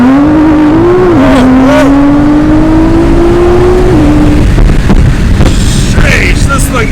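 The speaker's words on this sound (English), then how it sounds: "Now we're out on track in Adrian's R35 GTR, pushing out 700 horsepower at the wheels" A 700 hp Nissan R35 GTR accelerates hard on a race track, its engine note climbing loudly through gears with a brief shift dip, heard from inside the car with heavy wind rush and some occupant voices.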